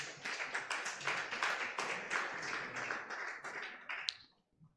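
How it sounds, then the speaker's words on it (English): Audience applause at a fintech conference, a fairly faint patter of many hands clapping steadily for a few seconds before it dies away. "People are clapping"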